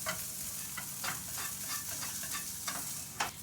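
Goulash sauce with diced tomatoes sizzles steadily in a pan while a spoon stirs it, giving soft repeated scraping strokes over a quiet, continuous frying hiss with no talking.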